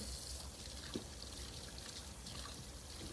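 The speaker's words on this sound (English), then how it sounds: "Let's turn my water on." Tap water runs steadily into a kitchen sink where fresh radishes are about to be washed, a continuous close hiss and trickle with one small knock partway through.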